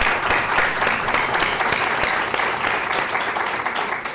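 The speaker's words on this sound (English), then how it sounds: "And I think that deserves an applause." A lecture audience gives steady, fairly loud applause that continues evenly for a few seconds.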